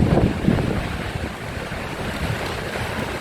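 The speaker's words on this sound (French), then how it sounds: "L'océan est puissant ici." Powerful ocean surf breaking near a jetty on a sunny day, a steady broadband wash of water with heavier surges in the first half-second, blended with wind rumbling across the microphone and no talking.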